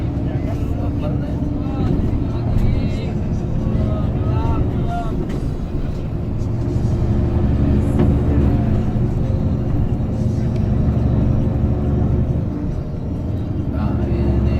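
A bus engine strains up the steep Gentong hill climb, a loud, steady low drone that holds throughout with a gruff, barking edge as it labours under load, and voices talk over it.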